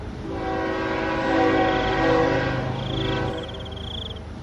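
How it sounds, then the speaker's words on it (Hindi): A train approaches along a railway track, its horn sounding a loud sustained chord that swells, dips briefly, then resumes over the rumble of the rolling train, close and prominent. "तभी सामने से अचानक रेल को आता देख"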